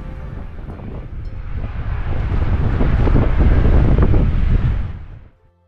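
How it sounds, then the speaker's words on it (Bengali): Strong, gusty wind roars across the microphone in a mountain valley near Bagori village in Harsil Valley, Uttarakhand, building to a heavy rumbling blast before cutting off abruptly. "প্রচণ্ড ঝোড়ো একটা হাওয়া বইছে"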